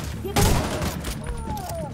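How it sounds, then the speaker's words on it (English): Shotgun fire in The Division 2 inside an indoor hotel level, one loud sharp blast followed by a ringing tail, with players talking over it. "Just love how we're just rocking shotguns, all of us."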